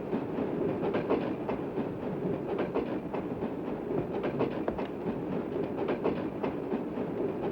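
A train rolls steadily along its rails with a dense rumble and a continuous run of rhythmic clicking and clacking from the wheels, loud and close, with no voices.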